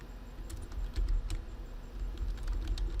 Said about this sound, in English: And then I want to type in weights and tanks